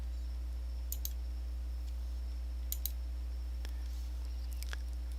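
A computer mouse clicks on a course module, giving three quiet, sharp clicks spaced a couple of seconds apart, some in quick pairs, over a faint electrical hum, no voices.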